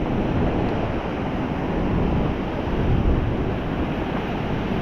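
Surf breaking as white water over rocks close to a small fishing boat, a steady loud wash of roaring foam with wind buffeting the microphone, continuous and unbroken, no voices.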